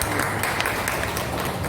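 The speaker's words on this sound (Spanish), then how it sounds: "nuestro amigo Welmer Cárdenas Díaz, a quien pido un fuerte aplauso." An audience at a novel presentation at a book fair claps in sustained, dense applause that carries through the whole short moment with no voice over it.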